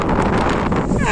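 Strong wind gusting at the seaside in December, a steady loud roar buffeting the microphone across the whole short stretch.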